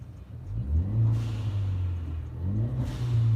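A turbocharged car engine revs in two rising surges with a low, rumbling tone, heard close and alone.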